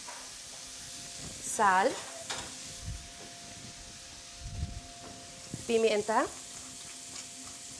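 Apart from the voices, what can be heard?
green tomato sautéing in pan for pork ribs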